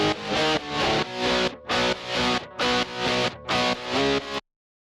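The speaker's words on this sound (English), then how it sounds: "Here's the rhythm guitar by itself." Distorted electric rhythm guitar from a remix track, played alone: loud, thick strummed chords in a steady pulsing pattern of short bursts, stopping abruptly.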